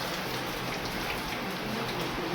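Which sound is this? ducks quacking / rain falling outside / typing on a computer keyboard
rain falling outside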